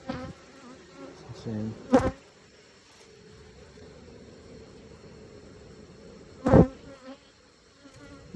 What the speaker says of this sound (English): But look at all the bees.